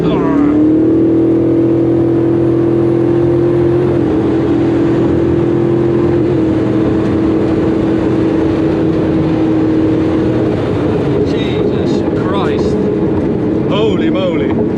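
Inside a Koenigsegg Regera under hard acceleration, a loud engine tone climbs and holds under excited in-car talk, with the drone staying strong throughout.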